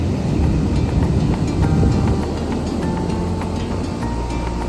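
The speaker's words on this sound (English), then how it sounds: "enjoy the sounds of the ocean" Ocean surf along the Norwegian coast on a very rainy day, a steady broadband wash of breaking waves that stays loud and continuous throughout, with no voices.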